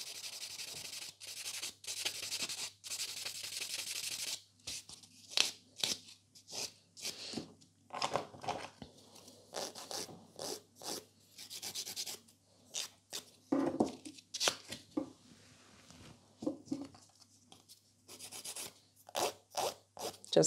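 Nail file working over glitter nails sealed with top coat: quick, close scratchy strokes in irregular bursts, fairly quiet, with short pauses between passes.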